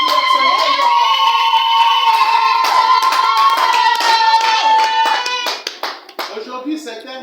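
Loud, sustained applause from a crowd at a wedding celebration, dense clapping over a tonal hum that breaks up into scattered, thinning claps toward the end.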